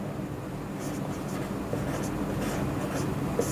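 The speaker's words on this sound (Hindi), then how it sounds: "यहां से हम लोग क्या करते हैं कि व्यक्ति लिख लेते हैं" Chalk or marker scratching steadily on a board while a reasoning problem is worked out, a continuous close writing scrape with small tapping strokes and no talk over it.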